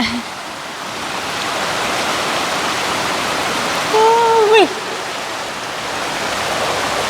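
A Michigan waterfall pours in a steady broadband rush that fills the whole stretch, with a brief exclamation from a nearby voice partway through.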